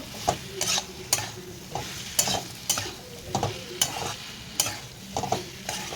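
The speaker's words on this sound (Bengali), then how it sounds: "এর মধ্যে আমি সজনে ডাঁটাগুলো দিয়ে দেবো দেওয়ার সময় ভালো করে কষিয়ে নেব" Drumsticks sauté in a pan with pumpkin, regular rhythmic scrapes and knocks of a spatula against the pan roughly every half second over a soft sizzle, close by.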